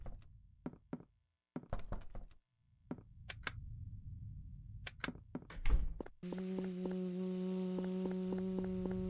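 A run of sharp, irregular knocks, then a steady electrical hum with faint tonal beeps takes over, a person imitating a microwave.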